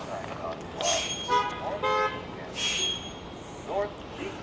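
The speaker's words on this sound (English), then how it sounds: "think it was a bus that honked." Several short bus horn honks sound nearby over steady Boston street traffic noise, a couple of blasts close together and one more later.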